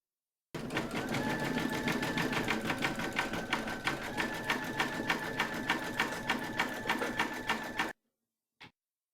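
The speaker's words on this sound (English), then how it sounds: "load your matching bobbin and thread colour for that into your machine, and then stitch round number 8" An embroidery machine stitches a round of a peeking-dogs coaster design in peacock blue thread on faux fur, running as a steady, rapid, even needle chatter for about seven seconds before stopping, followed by a single brief knock.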